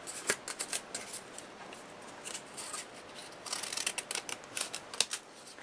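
Scissors snip through G45 Olde Curiosity Shoppe patterned paper for a mini photo album, a run of quick close cuts in irregular bursts with soft paper rustling between them.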